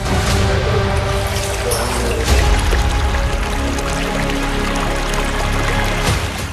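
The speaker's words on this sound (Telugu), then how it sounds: "ఈ పైప్ ద్వారా వచ్చే ఫ్లోటింగ్ వాటర్ ఈ కొలనులోకి చేరుతాయి" Water pouring steadily from a pipe into a pond, a continuous loud splashing rush that holds even throughout with no voices.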